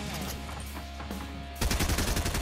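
Gunfire in a battle royale video game, a rapid burst of repeated shots that suddenly starts and continues loudly over a droning game background.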